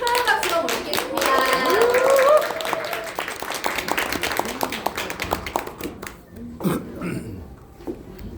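Audience clapping to welcome a speaker at an indoor company event, loud dense applause that thins into scattered claps, with voices talking over the later part.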